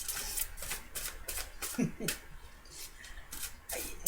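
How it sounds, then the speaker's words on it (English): Repeated riffling bursts of tarot cards being shuffled, quick papery flutters in an uneven rhythm with a voice murmuring faintly underneath. "while I shuffle the cards"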